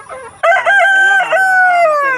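A rooster crows loudly and close by, one long drawn-out call that trails off, with some faint clucking and noise just before it.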